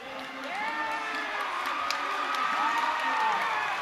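A high school basketball crowd cheers and shouts as a player checks back into a game between Hays High and Topeka West, a steady roar of voices in a gym with excited whoops rising above it.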